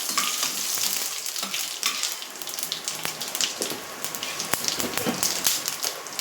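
Garlic cloves, cumin seeds and coriander seeds fry in a pan for a tomato and ridge gourd chutney, giving a steady close crackling sizzle with scattered sharp pops and a few stirring scrapes throughout, no speech.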